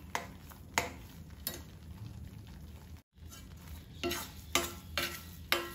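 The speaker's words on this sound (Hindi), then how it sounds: "धीमी आंच पर हमें इसे धीरे धीरे भूनना है।" Gram flour (besan) roasts slowly in ghee over low heat, a quiet, gritty rustle punctuated by repeated spoon strokes against the pan, with a brief dropout midway and no talking.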